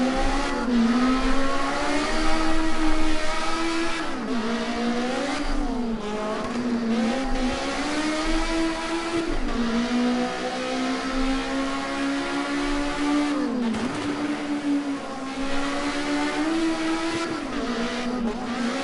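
Group A touring car at full throttle on a qualifying lap at Rouen-les-Essarts: a loud, continuous engine howl that climbs in pitch, drops briefly at each gear change, then climbs again, with no voices.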